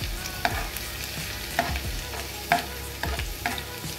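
Finely chopped ginger and garlic fry in oil with fennel, giving a close, continuous sizzle with four or five rhythmic stir scrapes against the pan, and no voices.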